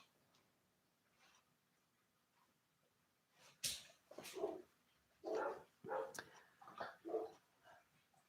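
Pet dogs barking outdoors: after a quiet start, a string of sharp, fairly distant barks and yips comes in irregular bursts, with no speech.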